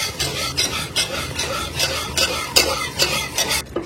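A mixture stirred in a pan on the stove, a loud rhythmic scraping and rubbing of the spoon against the pan, repeated about twice a second, close up and without any talking.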